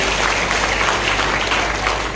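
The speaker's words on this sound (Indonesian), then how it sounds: "Tepuk tangan untuk Pak dokter." Steady applause from a crowd, a dense, even clatter of clapping that holds at the same level throughout with no voices over it.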